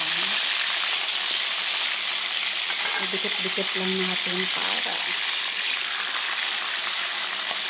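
Steady sizzling of fish frying in a pan, a continuous hiss throughout, with a voice speaking briefly over it midway.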